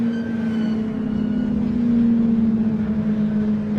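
A race car that has lost its exhaust drones around the Thruxton circuit, a steady, buzzing engine note that holds at an even pitch and swells slightly in the middle.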